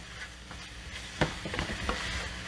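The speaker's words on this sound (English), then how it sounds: "Now we'll just mix it again with the meat." Chopped vegetables and meat for heart-healthy tacos are stirred together in a pan, giving a soft, continuous sizzle with scraping strokes from the spoon.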